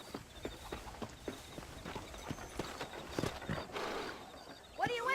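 Horse hooves clop in a steady, uneven rhythm in the video game Red Dead Redemption 2, fairly quiet and mid-distance, with a brief animal call near the end.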